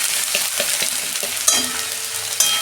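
Ginger and onion sauté in a hot pan with a lightly salted, steady sizzle, broken by a few sharp clinks and scrapes of a spoon stirring, loud and close.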